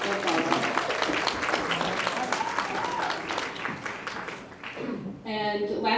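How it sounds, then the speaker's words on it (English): Audience applause at a community health event on fall prevention, a steady wash of clapping lasting several seconds with voices mixed in and a brief dip before it swells again at the end. "So if we can do a big round of applause for Betsy, that's all."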